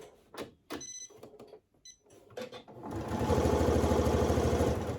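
A sewing machine stitches a fabric make-up bag, starting after a few seconds of quiet handling clicks and then running in a loud, steady rapid rhythm to the end.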